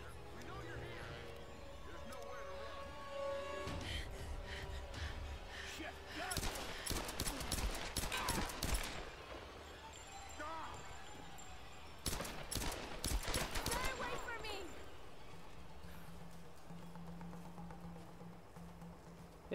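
Tomb Raider video game gunfire plays out as dense bursts of rapid shots in two main volleys, with a player talking over the action between them.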